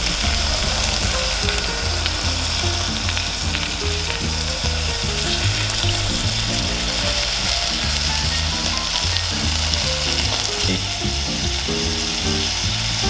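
Chopped tomatoes hit softened onions in a hot pan, setting off a loud, constant sizzle and fry, with faint stirring scrapes underneath and no speech.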